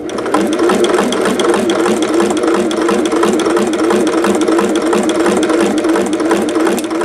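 A Singer 401A sewing machine stitching at its longest stitch length with a ruffler foot pleating fabric, giving a steady, fast mechanical whir with rhythmic clacking, loud and close and running without pause.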